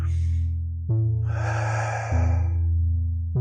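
A slow, controlled exhale through the mouth during a warming breathing exercise, a long airy breath lasting over a second, close and alone, framed by a steady low tone.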